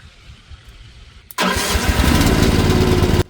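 A mini excavator's engine cranks briefly and then catches after a cold, freezing winter, bursting into a loud, steady rumbling idle that runs for about two seconds before cutting off abruptly.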